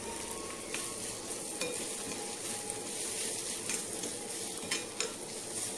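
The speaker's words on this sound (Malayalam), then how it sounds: "ഈ പൊടികൾ ഇതിൽ കിടന്ന് മൂക്കണം" Chicken masala and coriander powder fry in oil in a pan with a constant dense sizzle, dotted with a few faint clicks and scrapes of stirring, heard up close without voices.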